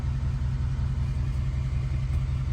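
A 2013 Chevrolet Silverado LML Duramax diesel engine idles steadily, a continuous low, even rumble close by with no revving and no voices.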